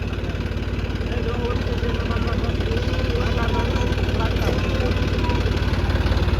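A tractor engine idles close by with a steady, low, rhythmic chugging that continues unchanged throughout, with no other sounds standing out.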